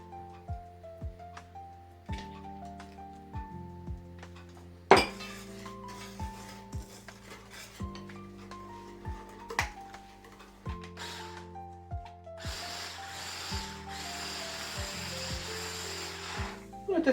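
A spoon clinks and scrapes against a bowl while stirring beer cake batter made with vegetable oil and beer, giving a series of bright ringing taps at irregular intervals, with a hissy swishing stretch near the end.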